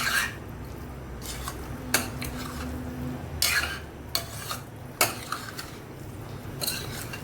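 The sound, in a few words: chicken frying and being mixed in a pan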